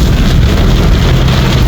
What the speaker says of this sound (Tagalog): Ang lakas ng ulan, grabe oh.